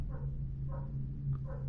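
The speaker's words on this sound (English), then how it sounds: "Well, the dogs have activated again." Dogs bark in short bursts in the video game Dishonored, three or four brief yelps spaced across a low steady ambient hum.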